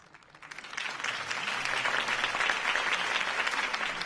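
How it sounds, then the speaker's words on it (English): Crowd applause after a mayoral campaign speech in Batman - The Telltale Series, starting quietly and swelling within a second into sustained, broad clapping from a large audience. "could have heard that applause"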